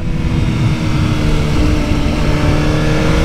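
A 2020 Suzuki GSX-R1000R motorcycle engine runs loud and close, holding a steady, dense roar with a continuous rumble that stays level throughout, with no voices over it.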